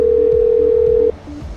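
A steady telephone dial tone sounds as a phone call is placed to a company in India, a loud continuous hum lasting about a second before it cuts off to a faint background.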